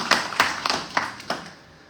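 A few scattered, separate hand claps from an audience in a hall, about five sharp slaps spaced unevenly over two seconds, fairly close and fading out at the end.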